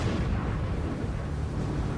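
Heavy shell hits from a salvo of 8-inch naval shells striking a destroyer escort in battle, a dense sustained rumbling roar of low booms and blasts with no clear pauses.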